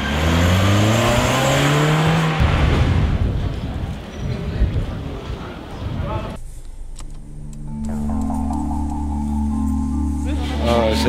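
Car driving onto a shopping boulevard in Amsterdam-Noord, its engine loud and close as it accelerates, then settling into a steady hum, with brief mechanical clicks midway.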